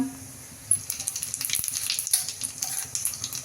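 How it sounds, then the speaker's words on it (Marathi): Mustard seeds and cumin crackle and pop in two tablespoons of hot oil on a gas stove, a dense close sizzle with sharp irregular spits throughout. "दोन टेबलस्पून तेल गरम करायला ठेवलं होतं मोहरी घालते मोहरी चढचडली की मी गॅस बंद करणार आहे"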